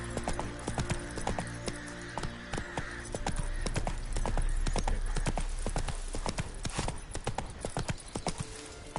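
Roach, a horse in The Witcher 3 video game, trots with a steady clip-clop of hooves, loud and close, over a dense layer of game music and ambience.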